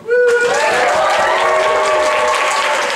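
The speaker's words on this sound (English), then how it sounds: "Remember the 3 things I've taught you: clapping, stamping your feet, and whooping." Comedy club audience bursting into loud applause with whoops and cheers, a dense roar of clapping and voices that holds steady after a sharp start.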